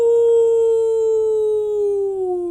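A human voice imitates a coyote howl, one long, steady, drawn-out wail that slowly sinks in pitch as it fades at the end.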